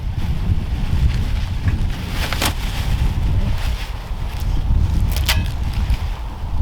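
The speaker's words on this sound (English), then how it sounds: "Holy moly, where's this wind come from?" Strong wind blusters outdoors during the setup of an Igneus Classico wood-fired pizza oven, a steady rumbling roar with brief gust swells close to the microphone.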